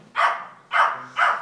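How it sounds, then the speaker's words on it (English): A dog gives three loud, close barks in quick succession, with short pauses between them and no talking. "Oh, that's a good dog."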